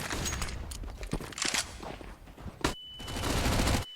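Rapid bursts of gunfire from CS:GO on the Dust2 map during a tournament match ring out loudly, with a dense fusillade of shots, a brief pause, then more firing to the end.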